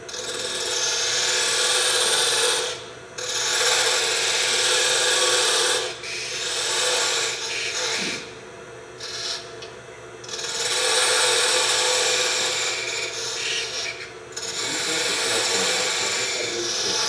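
A wooden lid tenon being parted off on a lathe gives a loud, continuous rasping cut in long sustained passes, broken by short pauses near three, six, eight to ten and fourteen seconds, with the tool scraping steadily against the spinning wood.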